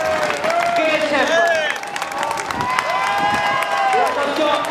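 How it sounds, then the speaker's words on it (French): Crowd applauding and cheering as a runner crosses the finish of the 2012 Toulouse marathon, a steady wash of clapping under an announcer's amplified voice for the full length. "on applaudit mesdames et messieurs"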